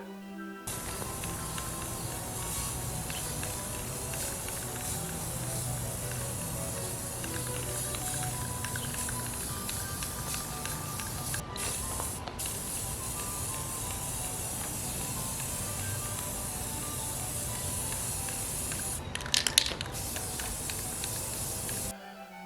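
Steady aerosol spray hiss as board game pieces for a Victorian-era Halma set are spray painted, a continuous close airy rush with a couple of brief breaks.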